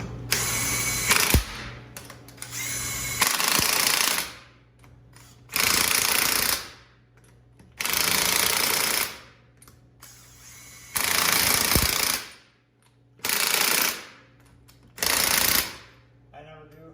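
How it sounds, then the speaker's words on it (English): Battery-powered impact wrench tightening lug nuts after a brake job on a 2003 DSG Terminator, firing in about six loud hammering bursts of roughly a second each with short pauses between them. "I just use battery powered impact."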